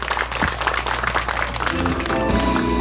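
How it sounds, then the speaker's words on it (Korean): A festival audience at the 2022 Hwasun Jeokbyeok festival opening ceremony claps in a dense, brief burst, which gives way to music and voices after a couple of seconds. "다시 한번 뜨거운 박수를 부탁드리겠습니다"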